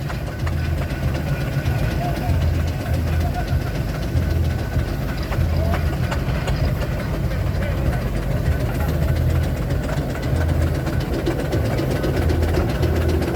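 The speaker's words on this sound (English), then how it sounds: "A very fine looking roller, and been owned by the Higgins family for a good number of years now" A steam roller engine runs steadily at a steam rally parade, a continuous low chugging and mechanical clatter that stays close and loud throughout, with a commentator talking over it on the public address.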